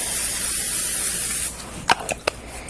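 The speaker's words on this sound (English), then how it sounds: "you also want a little bit of cooking spray." A close, steady hiss of cooking spray into a pan for about a second and a half, then stops, followed by a few soft clicks and taps.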